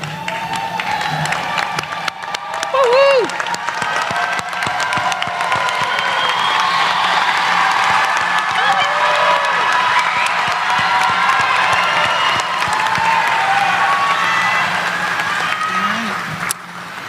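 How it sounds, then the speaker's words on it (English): A large crowd at a university commencement gives a standing ovation for the graduates, with loud continuous clapping, whoops and cheering and scattered shouts over a long stretch. "please join me in a standing ovation to congratulate our graduates"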